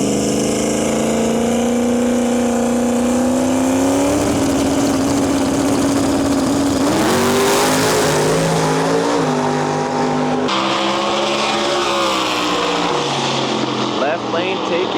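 Outlaw drag race cars roar down the track at a Canadian drag racing event, a loud sustained engine howl that shifts in pitch and stays loud throughout.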